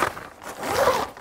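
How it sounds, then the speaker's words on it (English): A zipper on a 4WD shower tent is drawn closed in one quick, close rasping pull lasting about a second, with no talking. "zip this up"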